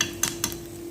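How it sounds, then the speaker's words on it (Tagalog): A utensil scrapes and knocks against a pan while leftover chicken with black pepper and curry powder is stirred, two quick close clinks over a faint steady hum. "Haluin lang guys."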